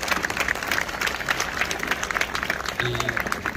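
Crowd applause at the San Pedro procession in Caleta Portales, Valparaíso, a steady wash of overlapping claps close by, with voices talking through it.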